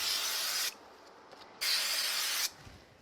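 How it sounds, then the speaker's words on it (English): Two bursts of spray glue onto the back of a craft card, each about a second long, a steady close hiss separated by a short quiet pause. "So I'm going to use a little bit of quick spray glue on the back."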